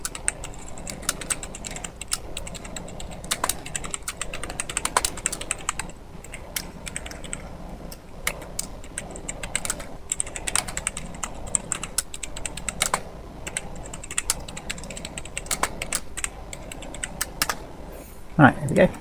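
Slow, irregular typing on a computer keyboard, soft close key clicks in uneven bursts with pauses, a voice briefly heard alongside.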